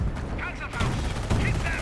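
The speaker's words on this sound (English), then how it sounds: "Taking heavy fire!" Rapid bursts of small-arms and machine-gun fire crackle in a Company of Heroes battle on Highway 69 during Operation Market Garden, dense and continuous across the clip, with shouted game voices mixed in.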